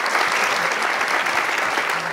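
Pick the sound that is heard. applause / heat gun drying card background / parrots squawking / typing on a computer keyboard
applause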